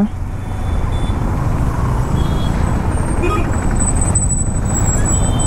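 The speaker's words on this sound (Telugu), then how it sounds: "ట్రాఫిక్ భయంకరంగా ఉంది ఈడ." Heavy road traffic on a busy road in Vizag, heard from a solo ride: a loud, constant rumble of trucks, buses and cars with scattered high beeps and horn-like tones layered on top.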